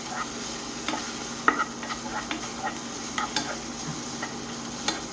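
Light scraping and tapping of mushrooms being stir-fried in a pan for tteokbokki, with a soft steady sizzle underneath and occasional sharper clicks.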